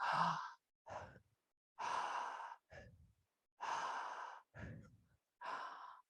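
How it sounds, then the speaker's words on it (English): Three slow breathing cycles, each a long airy inhale through the mouth followed by a short, sharp exhale, close and clear with brief pauses between. "breathe in through your mouth and then short breath out"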